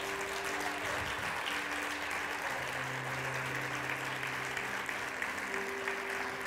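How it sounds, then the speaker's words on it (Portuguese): Steady clapping from a church congregation during a worship service, moderately loud and continuous, over a sustained musical drone in the background. "Aplauda mais o Senhor, dá um glória a Deus."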